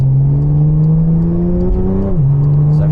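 A Porsche 992 tuned for record 100–200 km/h runs, accelerating hard with a steady, loud engine note that climbs in pitch, then drops briefly at a gear change and pulls again, heard continuously with no talking.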